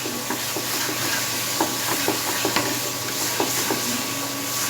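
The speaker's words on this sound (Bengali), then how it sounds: "আমি টু মিনিটের মতো ফ্রাই করে নেব" Banana flower paste fries in a pan, a close steady hiss with scattered stirring scrapes and light taps of the spoon, and no one speaking.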